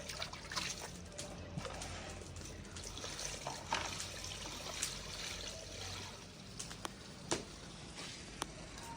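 Tap water running steadily while spinach is rinsed to remove heavy sand, a continuous trickling splash with occasional sharper spatters, fairly faint and without talk.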